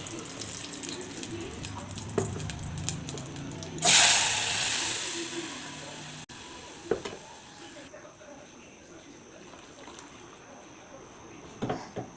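Water is poured into a cooking pot while a village-style Kannada bassaru curry is made, heard as a short burst of splashing and trickling amid quiet kitchen clinks and faint background sounds.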